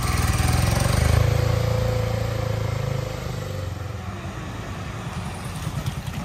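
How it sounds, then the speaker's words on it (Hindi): KTM Adventure 250 motorcycle engine pulling away, a steady mid-pitched drone that swells in the first seconds and then fades as the bike moves off into the distance, with no talking. "तो अब आशु भैया जाते हुए टेस्ट राइड के लिए KTM एडवेंचर की 250 है ये"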